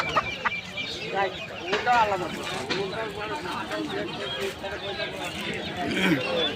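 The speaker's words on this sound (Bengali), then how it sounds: "এদিকে আছে সোনালি মুরগি" Sonali chickens clucking at a crowded poultry market, a steady stream of close clucks and squawks mixed with people talking all around.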